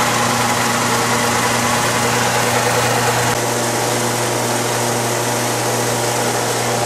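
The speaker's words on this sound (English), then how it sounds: "It's hard to even tell the car is running with that exhaust hose running outside." A Saturn car engine idles steadily with its exhaust routed outside through a hose, giving a constant low hum and broad mechanical noise that stays loud and even throughout, with no talking.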